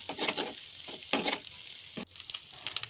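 Onion and chili sizzle in hot oil in a pan for pasta, crackling bursts that swell and fade as the mix is stirred, near and moderately loud, with no voices.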